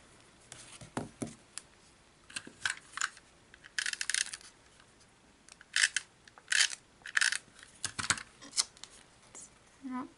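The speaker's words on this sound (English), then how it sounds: "So we'll just trim those bits off the back." Paper offcuts being trimmed with scissors after a stitched shaped die cut, heard as a series of short, crisp snips at an irregular pace, close and moderately loud, with faint handling noise between cuts.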